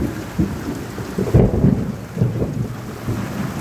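Heavy rain pours with low rumbles of thunder beside a pond at Joymollar Par on a dark stormy Sunday, loud and continuous, heard from under a shed.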